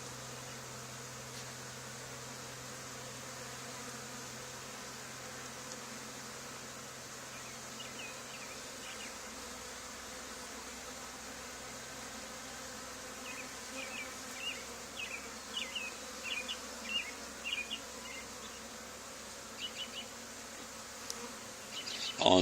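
Honey bee swarm buzzing at an old barn, a steady dense insect drone throughout with sharper individual buzzes flaring up in the second half.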